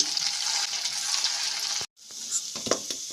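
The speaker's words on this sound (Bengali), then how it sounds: "দ্বিতীয় ব্যাচে যেগুলো ছেড়েছিলাম সেগুলো ফ্রাই হয়ে গেছে" Leftover roti balls deep-frying in hot oil hiss in a dense, steady sizzle; it cuts out briefly, then returns with a few clinks as the pieces are moved.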